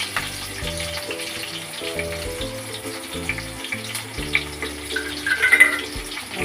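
Curry leaves and onion frying in a hot pan, a steady bubbling sizzle with crackling pops growing louder near the end, while background music plays underneath.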